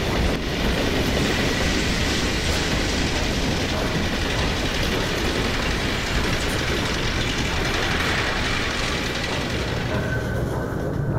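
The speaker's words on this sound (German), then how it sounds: "Und hier ist auch dieser Zug." A train in the video game Half-Life 2 rolls past close by, a loud continuous rumble with rattling wheels and clickety-clack running through the whole stretch, easing slightly near the end.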